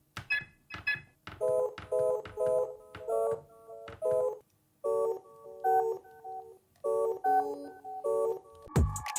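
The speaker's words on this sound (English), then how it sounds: "I took the sound the GoPro makes, which turns on. I pitched that down." A GoPro camera's power-on beeps, pitched down, repeat as low electronic tones in a choppy rhythm, stepping up and down, ending with a deep thump.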